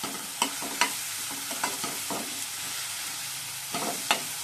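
Chopped onion frying with ginger-garlic paste in a pot for chicken dum biryani, a soft steady sizzle broken by several sharp scraping strokes of a stirring spoon, close up with no talking.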